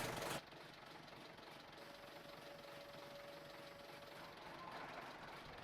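A tractor engine idles in Farming Simulator 19, a faint, steady mechanical hum with a light knocking rattle that runs without a break after a short louder burst at the start.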